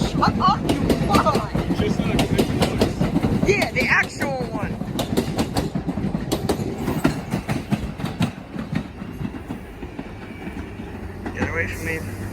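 A Manhattan-bound 4 subway train at the Bedford Park Blvd–Lehman College station rolls past close by. It makes a loud, continuous rumble with rapid clickety-clack of wheels over joints and brief squeals, gradually easing.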